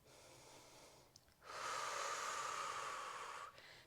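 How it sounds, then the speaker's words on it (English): One deep, audible exhale lasting about two seconds, hissing and fairly close, breathed during a Pilates plank workout with little else around it. "Breathing deeply."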